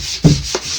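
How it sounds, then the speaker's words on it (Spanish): Sheet of 150-grit sandpaper rubbed along the edge of a painted wooden desk, two loud, close, rasping strokes over a continuous scratchy hiss. "vamos a lijar. Esta es una lija de 150"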